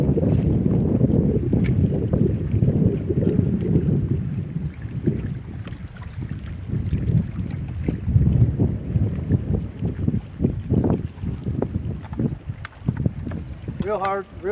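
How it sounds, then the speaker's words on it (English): Gusty wind buffets the microphone on a busy lake crowded with tournament fishing boats, a constant low rumble under someone talking steadily throughout. "This wind kicked up today"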